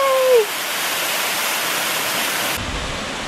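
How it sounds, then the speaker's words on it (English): Steady, rushing roar of a waterfall at Cheaha State Park, Alabama, fills the clip, broad and constant, after a brief whistle-like tone at the very start. "And there's the waterfall."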